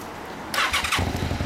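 A 2007 Yamaha YZF-R1 motorcycle with a Yoshimura exhaust cranks and fires up abruptly after a quiet moment, then settles into a close, throbbing cold idle.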